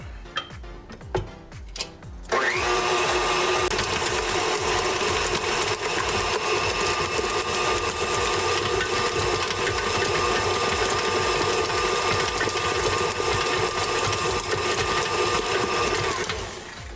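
A stand mixer kneads keto bun dough for BBQ dim sum buns, with a loud, steady whirring motor and rhythmic ticking that starts after a couple of brief knocks and runs on without pause, close by and with no talk.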